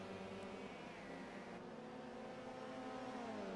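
Touring cars, a Vauxhall, BMW and Ford among them, race through Paddock Hill Bend at Brands Hatch, a steady loud engine drone with rising and falling tones as they pass, no voices.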